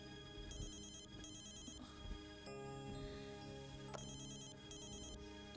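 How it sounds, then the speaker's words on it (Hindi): An electronic phone ringtone plays in repeated bursts over a steady background hum, with a short pause between rings, on a Saturday night. "तुम्हारा फोन है ऑफिस से।"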